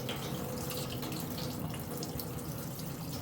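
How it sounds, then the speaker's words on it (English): Broth from opening a 70+ year old sea turtle poured down a drain, a continuous rushing, splashing liquid pour that stays steady and close for the whole stretch with no pauses. "we're gonna pour this broth down this drain. Just the broth."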